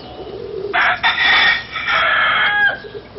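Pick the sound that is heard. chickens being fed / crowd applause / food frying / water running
chickens being fed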